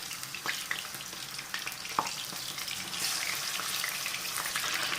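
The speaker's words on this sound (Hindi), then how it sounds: "चलें जी हम इसमें चिकन डालते हैं। ठीक है, और इसको फ्राई करते हैं।" Chicken pieces fry in a pan with a dense, continuous sizzle that swells louder partway through, broken by a few soft clicks and scrapes of stirring.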